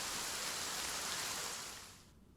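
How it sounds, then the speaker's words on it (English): Steady rain falling in the video game Goddess of Victory: Nikke, a dense even hiss of downpour that holds constant and then fades away near the end, with no voices. "Rain falls from the sky. It's raining."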